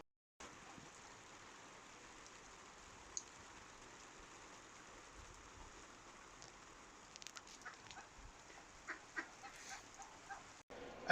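Pet ducks in a garden enclosure, a few faint quacks coming in toward the end over a low steady background hiss.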